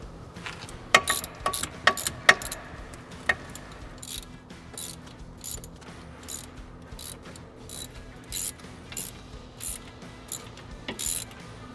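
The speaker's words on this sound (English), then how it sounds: "And now we'll put in the new bolts." A ratchet wrench tightens new bolts near a wheel speed sensor cable, torqued to 96 foot-pounds, giving bursts of sharp close clicks in quick runs that thin to sparser ticks later, with no talking.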